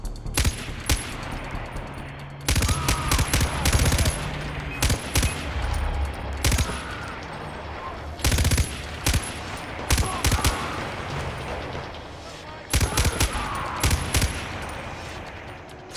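Driller gun firing in the video game Far Cry 4, loud repeated bursts of rapid automatic fire separated by short pauses, with sharp impacts and a faint voice underneath.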